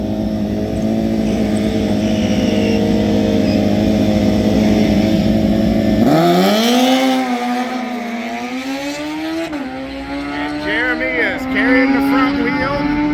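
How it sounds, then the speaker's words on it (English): A Gen 3 Suzuki Hayabusa drag motorcycle makes a run at a drag racing event, its engine droning loud and steady before rising sharply in pitch through the gears, with a commentator talking over it. "Jeremy Teasley making his first run on Black Betty against Mike Davis in the far lane."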